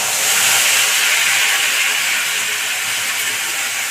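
Garlic and ginger paste hits hot oil in a pan with a loud, steady broadband sizzle and hiss, unbroken for a few seconds with no voices.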